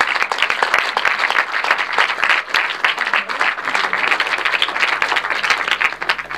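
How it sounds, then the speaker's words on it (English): A large audience applauds warmly at a ten-year EBU Master School celebration, with dense, continuous clapping filling the hall at full volume throughout. "please give a warm round of applause to these crusaders of radio"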